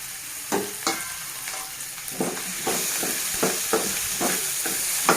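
Cut okra frying in a pan for Telangana-style bendakaya pulusu, a continuous sizzle broken by regular scraping strokes of a spatula, close and fairly loud.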